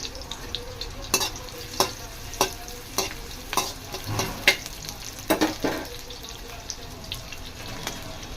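Onion and whole spices fry in a pan for a Telugu dhaba-style chicken dish, with a soft steady sizzle under a series of clinking stirs and scrapes that recur every second or so.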